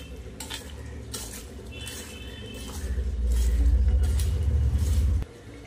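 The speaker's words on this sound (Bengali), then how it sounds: "এবার ভালো করে আমি মাছটা মাখিয়ে নেব।" Hands mix pieces of small morola fish with salt, cumin powder and black cumin in a metal bowl, a steady close scraping and clinking that grows louder midway, with no talking.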